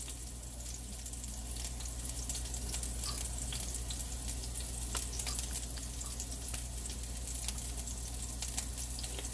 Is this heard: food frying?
yes